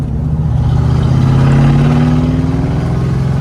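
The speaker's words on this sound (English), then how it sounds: "We're getting some backfires" A car engine revs loudly and close, its pitch climbing steadily through a gear, with a rough, uneven note but no distinct backfire pops.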